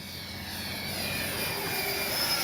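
A Freewing Yak 130 RC model jet with a 70mm ducted fan slows for landing with flaps down, its steady airy whine and broadband rush sustained and fairly loud throughout, alone with no voices.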